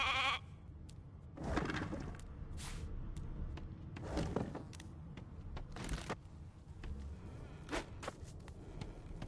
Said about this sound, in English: Hey, a sheep!